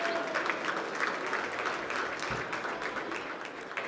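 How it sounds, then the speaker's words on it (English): A seated audience at a CES 2024 health tech pitch contest claps in steady, dense applause that holds at an even level throughout. "Let's give a round of applause."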